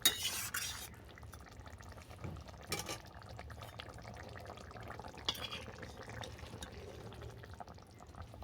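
A pot of rohu fish and cabbage curry with coriander is stirred gently, soft liquid swishes and light clinks of a utensil against the pot, quiet and close.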